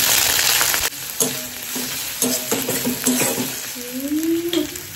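Plenty of mustard oil heats in a wok for a fish-head mustard curry, crackling with a loud, continuous sizzle. Scrapes, clinks and a faint rising whine cut through it.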